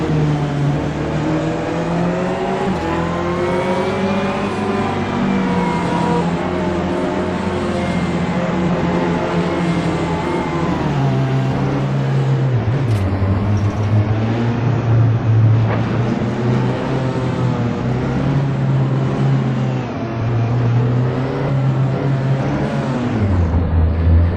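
A Corvette Z06 GT3R race car in Assetto Corsa at an international speedway drones loudly and steadily at high revs, with the engine pitch climbing and dropping through gear shifts for the whole stretch, no talk.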